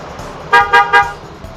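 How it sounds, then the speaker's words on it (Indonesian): A car alarm sounds as the car is locked: three quick, bright electronic chirps in rapid succession, close and fairly loud, over a faint background hum. "alarm mobil bunyi terus ketika dikunci"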